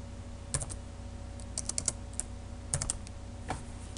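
Keys clacking on a computer keyboard as C++ code is typed, in short irregular bursts of close, crisp clicks over a steady low hum, with no talking.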